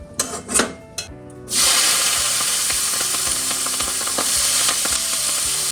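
Leftover cooked rice frying in a pan, a steady close sizzle that starts suddenly and holds loud, with faint scraping clicks of stirring over it, after a few brief knocks at the start.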